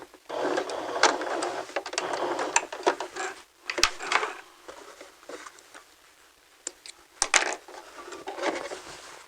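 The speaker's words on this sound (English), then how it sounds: "and sew to the edge. Forward stitch a couple, back stitch, and go to the end, and another back stitch." A sewing machine runs a few forward and back stitches to the edge of the fabric in short close bursts, with clicks and pauses between runs.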